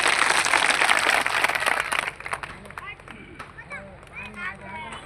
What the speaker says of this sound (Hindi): तालियां हो।